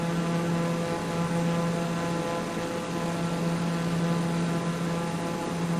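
Steady drone of a light airplane's propeller engine in cruise flight over the Gulf coast toward Houston, Texas, loud and unbroken with a constant low hum, no talking.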